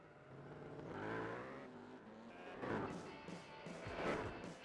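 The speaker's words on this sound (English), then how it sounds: "The RX-7's pitting in." A Mazda RX-7 race car in Gran Turismo 4 pulls into the pits at Suzuka, its engine droning and swelling in waves, moderately loud, during an endurance race.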